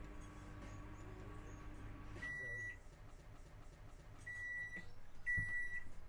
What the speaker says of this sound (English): So that's the microwave and the coffee machine at the same time.